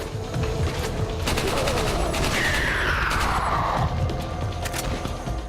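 Rapid bursts of gunfire-like shots from a bowgun firing exploding bolts in Resident Evil 4, with sharp booming explosions, loud and continuous, a whooshing streak passing midway through the dense barrage.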